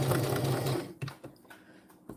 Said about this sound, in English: I should have checked my length, because this is working so much better now that I got a shorter length.